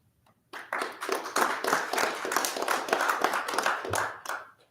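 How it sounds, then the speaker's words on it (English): Members of the public clapping at a planning and zoning commission hearing, a few seconds of brisk, fairly close applause from a small crowd that rises abruptly and fades out. "There's not supposed to be general applause and actions by the members of the public."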